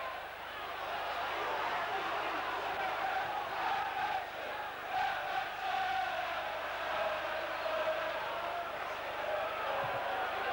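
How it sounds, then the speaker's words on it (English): Away Everton supporters raise a steady, sustained cheer across a stadium during a Chelsea versus Everton football match, a broad crowd roar heard at a distance without much rise or fall. "So a good cheer coming in from the Everton fans"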